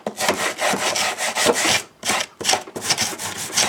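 Old, crumbling foam being scraped off a surface in a garage on a motorcycle project; a rough, rasping scrape in several long strokes with brief pauses, close and fairly loud, with no talking.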